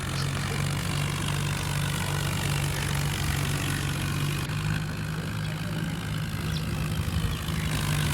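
A tractor engine in a farming video game pulling a loaded trolley drones steadily with a low, continuous rumble at constant loudness, close and alone without talk.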